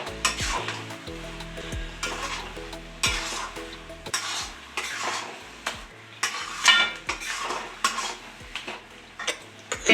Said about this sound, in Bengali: দেওয়ার পরে গ্যাসটা এবার মিডিয়ামে করে দিয়ে আবার নাড়াচাড়া করব, কারণ চিনি দিয়েছি, আবার একটু জল বেরোবে।